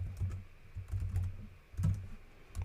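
Close typing on a computer keyboard, bursts of quick clicky keystrokes with brief pauses between, quiet and alone.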